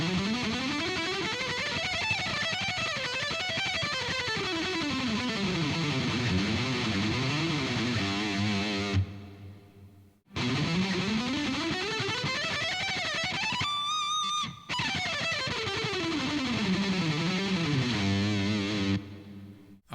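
Distorted electric guitar plays a scale-pattern exercise (pattern 3, exercise 5), with fast lines rising and falling across positions, loud and steady, in two takes separated by a brief pause near the middle.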